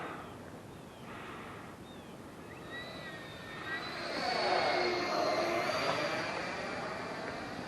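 A Freewing Yak 130 RC jet with full flaps makes a slow pass while rain falls. Its electric ducted-fan whine is faint at first, then swells as the jet comes closer and stays steady.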